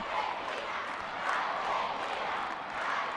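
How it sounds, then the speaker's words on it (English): A stadium crowd at the 2014 Women's Hockey Champions Trophy match between Argentina and Australia in Argentina keeps up a steady, dense roar of cheering and shouting, swelling slightly at moments, loud and enveloping. "The crowd silenced but briefly as they tried to lift their team for the final 3 minutes before the half-time break."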